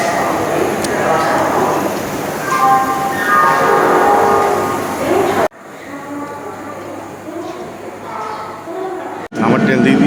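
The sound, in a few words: train at a railway station, Howrah to Mirzapur Bankipur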